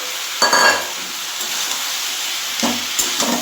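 Fish heads fry in a pan of cooked spiced masala, giving a close, steady hiss of sizzling oil punctuated by a few brief scraping stirs and clinks.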